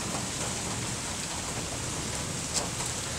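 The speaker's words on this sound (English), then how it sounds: "So much rain." Heavy rain falls steadily as a dense, even hiss, loud and close, with no voices over it.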